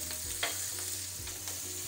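Onion and ginger frying in a pan for chilli chicken, a steady close sizzle broken by the scrape and shuffle of stirring, with no voices.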